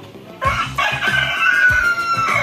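A young Bangkok rooster, one of two roughly three-month-old males, crows close by with a rough, strained call, and other farm chickens cluck and stir around it.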